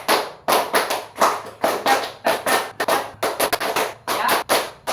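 A classroom claps the "tepuk 5" rhythm clap together, sharp group claps falling in repeated short patterned bursts with brief gaps between rounds, loud and close.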